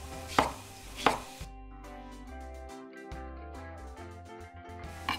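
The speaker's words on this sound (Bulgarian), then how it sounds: "Нарязвам домата на купчета и го слагам при останалите продукти." A knife chops a tomato into chunks: two sharp, close cuts against a board, followed by steady background music.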